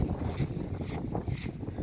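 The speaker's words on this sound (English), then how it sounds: "Freaking windy today." Strong wind rumbles and gusts against the microphone outdoors at a woodpile, a steady low roar swelling in a few brief surges, no voices.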